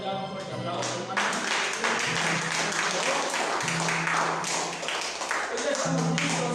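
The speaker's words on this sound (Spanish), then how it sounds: "Pues vamos a brindar un fuerte aplauso, hermanos" A church congregation gives a strong round of applause during a Passover (Pesach) service. Dense, continuous clapping fills the room after a brief opening, with a voice speaking over it.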